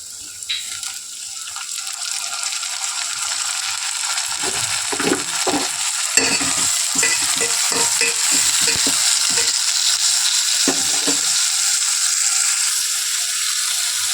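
Onions and tomato frying in a pan, a steady loud sizzle with repeated stirring scrapes and clinks through the middle, close up, no talking.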